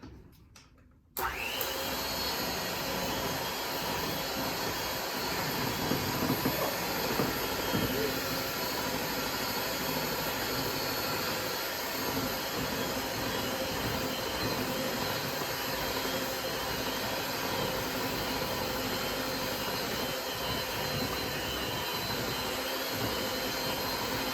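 A loud electric mixer whirs steadily while blending baking batter with milk, a constant motor drone that starts abruptly after a second of quiet and runs on for the rest, with no voices.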